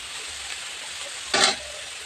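Potato and meal maker frying in a pan as they are sautéed, a steady low sizzle throughout with one brief louder burst of stirring and scraping midway.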